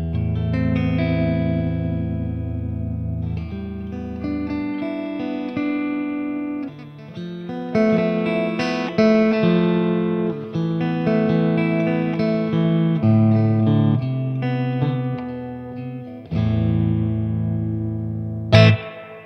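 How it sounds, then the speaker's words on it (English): Warmoth Stratocaster electric guitar played with clean tones through a Mesa Boogie RK II amplifier, sustained chords and picked notes ringing steadily and loudly, with brief pauses between phrases and no talking. "now there's some nice clean tones coming out of a Mesa Boogie RK II"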